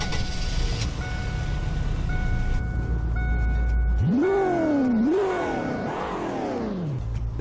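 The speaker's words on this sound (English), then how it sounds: "Here is what the 2001 Crown Victoria Security version looks like." A 2001 Crown Victoria security car in Roblox Greenville, with a steady engine hum and then a close, revving engine whose pitch climbs and drops in several surges, over a background of soft tones.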